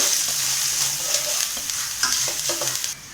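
Masala with chili powder roasting in a pan for a chicken leg fry, a close, steady sizzle with brief scraping as it is stirred, then stopping abruptly.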